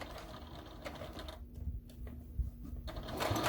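Sewing machine stitching slowly over a pocket on a fabric armchair caddy, a close, fairly quiet mechanical whir with rapid needle chatter and a brief pause in the middle.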